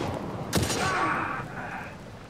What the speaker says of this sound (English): Got one over here shooting at me.